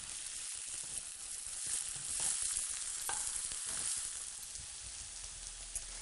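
Onion and ginger fry gently in a pan with a soft, continuous sizzle and hiss, nearby and steady, with a few faint clicks and stirring touches underneath and no voices.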